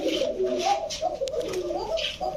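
Racer pigeons coo close by in a cage, soft repeated throaty coos rising and falling continuously, with a few faint higher chirps mixed in.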